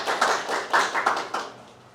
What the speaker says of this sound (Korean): 우리 한번 박수로 또 인사 한번 해볼까요?